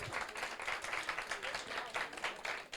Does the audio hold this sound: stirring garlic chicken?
no